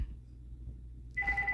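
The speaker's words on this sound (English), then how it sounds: "I'm so sorry about the phone ringing." A telephone starts ringing indoors near the end, a steady electronic tone that cuts in sharply over a low background hum.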